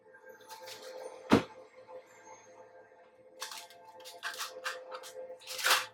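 Tarot cards are shuffled in quick riffling bursts with a sharp snap partway through, close and crisp in a quiet room, with faint speech in between.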